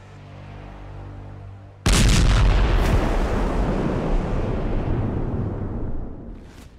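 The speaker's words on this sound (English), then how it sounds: "gunshots can be heard in the background" A sudden loud blast breaks in, followed by a heavy, sustained roar of gunfire in combat in Russia's Kursk region that slowly fades.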